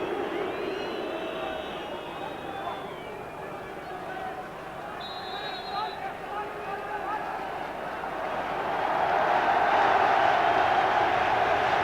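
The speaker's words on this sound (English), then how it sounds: "the applause, the noise that you can hear is because of the introduction of Robbie Fowler, the club captain" A stadium crowd at a UEFA Cup match between Liverpool and Barcelona swells into applause and broad noise for Robbie Fowler's introduction, heard under a commentator's talk and growing louder toward the end.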